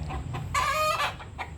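A mother hen gives a loud, drawn-out cluck amid softer clucks, nearby against a low background hum.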